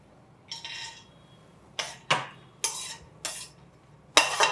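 Cashew nuts dropped into a steel cooker while making pongal, giving a series of five or six sharp metallic clinks and rattles spaced irregularly, fairly close and quiet against a hushed room.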